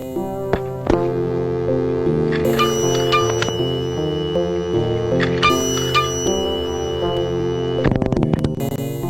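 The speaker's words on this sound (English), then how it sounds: "A double ding of an actual mechanical bell in the phone itself." The mechanical ringer bell inside a telephone gives bright metallic dings, a pair of strikes early and another burst near the end, over a steady tonal background.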